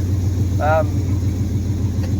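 A Pontiac Turbo Trans Am engine idles steadily with a low, even rumble, close by, in its first start after years; a brief voice-like tone rises over it partway through.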